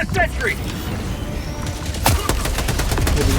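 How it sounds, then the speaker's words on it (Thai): Enemy robot gunfire in the Helldivers 2 video game, bursts of rapid shots with sharp impacts and a louder crack partway through, dense and chaotic, with a player's voice over the top. "มันยิงมาโคตรแม่น"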